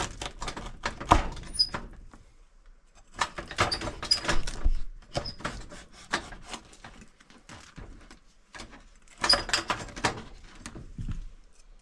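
A squeaky oven gives repeated creaking squeaks in irregular bursts with short pauses between them, close by and moderately loud.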